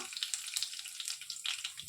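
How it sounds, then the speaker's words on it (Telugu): Seasoning seeds crackle and sizzle in hot oil, with sharp popping spurts over a continuous hiss. No talking. "ఆయిల్ హీట్ ఎక్కిన తర్వాత కొన్ని పోపు గింజలను వేసుకుంటున్నాను."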